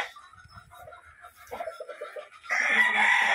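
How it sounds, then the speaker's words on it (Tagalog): Hens cluck and murmur in short rhythmic calls on a farm, then a loud, drawn-out squawk rises near the end, with faint background noise. "Ito po yung yung mga inahin ni Dante"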